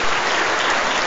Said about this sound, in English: An applause for Louis.